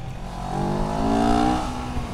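CFmoto NK400 motorcycle downshifting, its engine revving up sharply and then easing off during a brief, close pass; the rear-wheel lock-up itself is not distinct.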